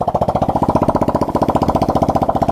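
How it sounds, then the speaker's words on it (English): A small Yamoto 70cc ATV engine runs close by at a fast, even idle, giving a loud, steady stream of rapid popping exhaust pulses with no pauses. "I like that little poppy sound of the 70cc"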